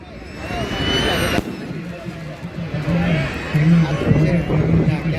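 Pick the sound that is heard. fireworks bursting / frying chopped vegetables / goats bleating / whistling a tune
fireworks bursting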